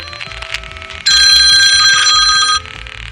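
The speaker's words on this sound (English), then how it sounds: "There's a phone." A telephone rings with a loud, bright, bell-like trill lasting about a second and a half, breaking in over radio studio background music and cutting off abruptly.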